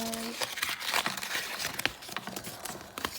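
A plastic My Little Pony toy package is torn open with loud, close crinkling and tearing of the wrapper, while a person talks over it.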